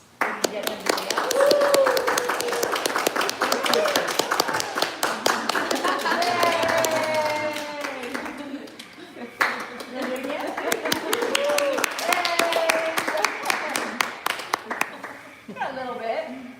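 Farm visitors clap in quick rhythmic bursts to get a farm animal to dance, the sharp claps running steadily close by while people chatter and laugh over them.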